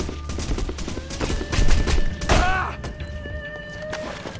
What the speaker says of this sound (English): Stay here till the gunfire stops.